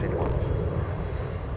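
An Embraer jet at MSP airport gives off a steady broadband engine roar that holds constant from start to finish, loud and near, with no gaps.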